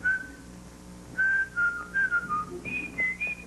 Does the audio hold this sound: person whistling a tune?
yes